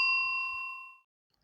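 A notification bell sound effect strikes one clear, ringing ding that decays smoothly over about a second into silence.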